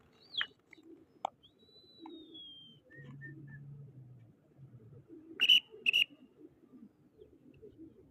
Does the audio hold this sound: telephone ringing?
no